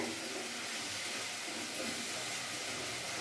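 Spice paste (masala) frying in a pan over a high gas flame in a home kitchen, giving a steady, close sizzling hiss that runs evenly through the whole stretch with no voices.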